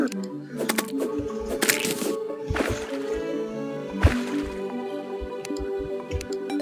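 Water flows and levels out in the video game Terraria, heard as a rapid series of wet drips, squishes and small splashy pops in uneven bursts, fairly close and moderately loud.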